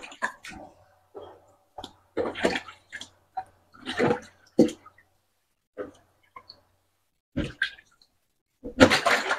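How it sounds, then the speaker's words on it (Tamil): Raw chicken legs being washed in two or three changes of water, heard as intermittent splashing and sloshing bursts with short quiet gaps between them, close and moderately loud. "இப்போ நாங்கள் இதை ரெண்டு மூணு தண்ணியில் கழுவி எடுத்துக்கொள்ளுவோம்."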